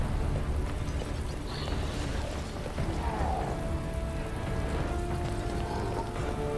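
Steady rain falling in the Resident Evil 2 video game, a dense continuous hiss of downpour at constant loudness with faint game tones underneath.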